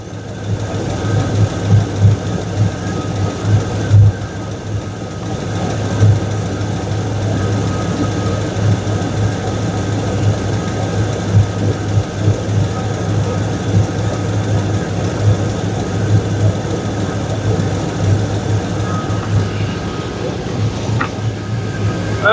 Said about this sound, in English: Also sounds like it's got a healthy exhaust leak.